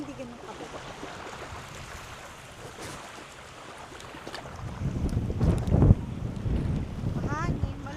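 Wind blows outdoors by the water in Seward, Alaska, a low gusty rumble buffeting the microphone that swells louder in the second half, with faint talk in the background.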